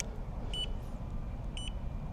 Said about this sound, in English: you even get a beeping sound, so that way you will not forget that your signal light is on